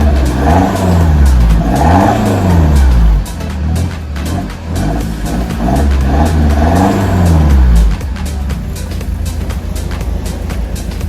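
A BMW F10 with a muffler-delete quad exhaust fires up cold, revving in several loud swelling blips before settling into a deep, steady idle rumble, with no one talking.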